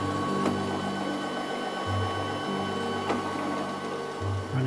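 A ball screw positioning machine runs a short test program, giving a steady mechanical whine with stepped tonal shifts as the axis moves and stops, a couple of faint clicks, no voices.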